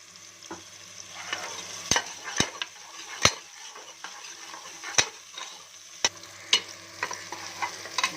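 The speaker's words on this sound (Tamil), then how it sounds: "நல்லா எண்ணெயில் விதங்கட்டும்" Mutton masala with small sambar onions and rock salt sautéing in oil in a pan, a steady soft sizzle broken by sharp, irregular clacks of a spatula scraping and stirring, close by with no talking.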